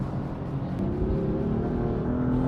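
A BMW M4 engine droning steadily at held revs while driving, a continuous low rumble from inside the car with no gear change.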